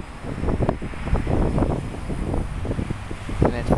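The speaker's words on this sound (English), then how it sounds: "It's a little bit windy" Gusty wind buffets the microphone with a constant low rumble and rushing noise, loud and close throughout, on a freezing day beside a busy city street in Winnipeg.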